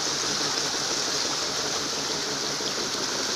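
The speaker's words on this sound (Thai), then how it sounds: "จะเป็นลำธารนะครับ" A stream flows steadily in a forest setting near a large bamboo water wheel, its broad rushing wash close and continuous with no talk.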